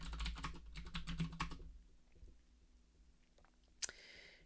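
A computer keyboard clatters in a fast close burst of typed keystrokes, then falls to a few scattered faint taps and one sharper click, quiet overall.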